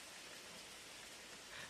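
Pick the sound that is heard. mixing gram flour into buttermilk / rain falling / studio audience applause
rain falling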